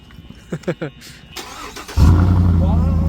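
A BMW i8 sports car engine cranks and roars to life, then settles into a loud, deep idle exhaust rumble after a few short voices.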